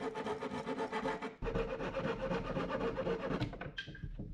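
A hand saw rasps back and forth through a wooden cabinet panel, cutting a sink opening in a mini camper kitchenette, with quick rhythmic strokes, close and steady, ending in a few knocks.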